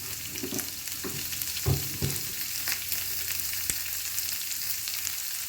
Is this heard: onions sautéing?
yes